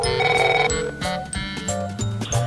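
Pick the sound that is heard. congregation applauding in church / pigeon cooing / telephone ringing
telephone ringing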